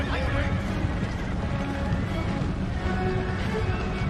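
Horse hooves clopping steadily in a dense, noisy mix with a neigh and continuous background clamor, loud and close throughout, in the video game Empire: Total War.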